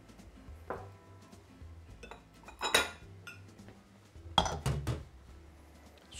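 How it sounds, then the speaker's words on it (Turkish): Utensils clink and scrape against a bowl while a salad of chopped onion, sumac and parsley is tossed and stirred, in irregular bursts with brief quiet gaps between. "Sumak, soğan, maydanoz üçlüsünü güzelce karıştırıyorum."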